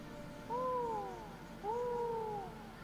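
A person imitates an owl hoot with two drawn-out, wavering vocal calls, close and fairly loud, separated by a short pause. No other talk is heard.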